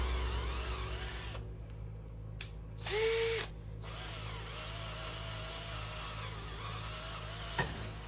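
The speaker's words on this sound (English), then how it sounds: "I succeeded cutting 2 holes in stainless with the Hugin Rotocut hole cutters" A drill fitted with a Hugin Rotocut hole cutter bores through stainless steel, giving a steady, moderately loud grinding whir that dips into near silence midway before resuming, with a brief higher-pitched whine as the speed shifts.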